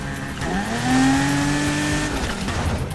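A Nissan 370Z drifts in the video game Need for Speed Heat on a farm location. A sustained tire squeal slides upward over a revving engine, stays loud and close for about a second, then fades back.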